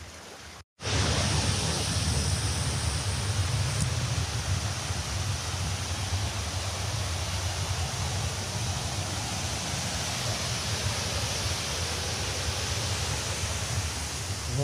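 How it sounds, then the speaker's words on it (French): A stream flows beside a hiking trail through boxwood near the Durzon spring, a steady, loud broadband rush of water continuing unbroken after a brief cut at the start. "il y a toujours ce bruit du ruisseau qui coule juste à ma droite"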